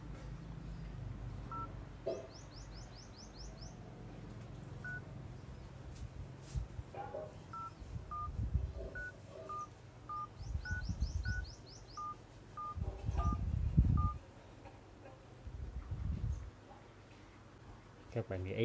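Keypad tones beep one after another as a phone dials the SIM number of a Mini A8 GSM GPS tracker, followed by a repeating ringback pattern, with a person talking over the tones at intervals.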